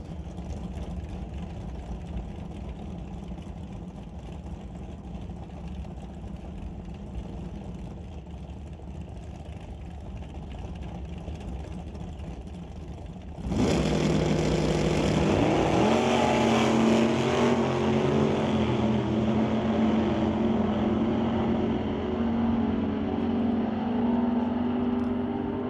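A 1962 Acadia and a 1937 roadster drag race at an old-time drag event at Mission Raceway Park, a low engine rumble that abruptly swells into a loud, sustained roar of engines accelerating away, then slowly fading.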